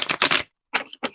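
Tarot cards being shuffled and turned, a brisk riffling burst followed by two shorter snaps of cards, close and fairly quiet with no talk.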